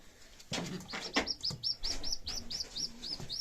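Pigeons give a quick run of close, regular chirping calls over soft cooing and rustling, about a dozen evenly spaced notes with no one speaking.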